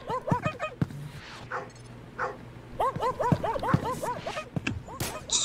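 A dog in the video game Garry's Mod barks and yips in quick repeated bursts, a first cluster early on and a longer run of sharp barks in the second half, with faint background sounds between.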